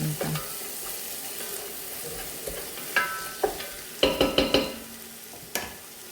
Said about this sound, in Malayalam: നമ്മളെ ഉള്ളിയൊക്കെ ഉള്ളിൻ്റെ തക്കാളിയൊക്കെ നല്ലോണം വയണ്ടി കിട്ടി